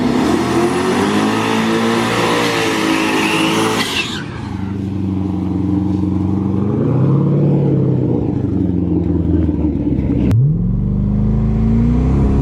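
Drag car with a new torque converter launching hard: a loud, sustained engine roar that drops back, climbs again through a rising rev, then cuts sharply before another hard rev begins, heard from close by with no talk.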